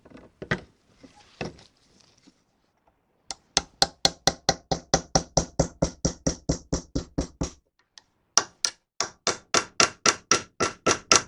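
A hammer strikes the lock tabs on a classic Austin Mini front hub: a few scattered knocks, then a fast, steady run of sharp metallic blows, a short pause, and another rapid burst, close and loud with no talking.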